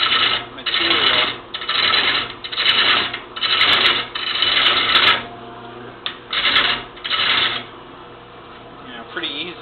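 A bowl gouge cuts into wood on a lathe in a series of about eight loud, rasping bursts, each lasting under a second, separated by brief pauses.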